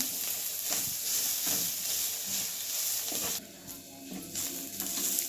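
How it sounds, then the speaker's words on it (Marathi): Shredded cabbage frying in oil in a pan while it is mixed, a steady broadband sizzle with soft scraping stir strokes; the hiss drops off partway through, then continues more quietly. "तेल ओतून आणि जरा भाजून घ्यायचं चांगला मिक्स करून आणि एक दोन तीन मिनटं भाजून घेऊया"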